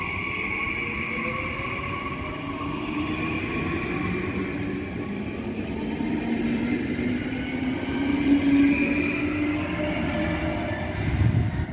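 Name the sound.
RE55 Twindex 445 regional train departing station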